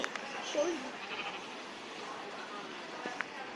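Short sheep bleats come from Minecraft during gameplay, faint and brief near the start, under steady talking.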